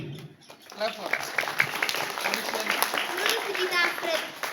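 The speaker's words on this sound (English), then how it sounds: "Clap for us." Children at a school clapping together in a classroom, a dense patter of many small hands under overlapping kids' voices and chatter, fairly close and steady throughout.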